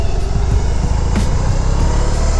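A BMW R18 motorcycle on the move, its engine giving a steady, loud low rumble blended with broad rushing wind noise that holds evenly throughout, with a brief brighter swell midway and no voices.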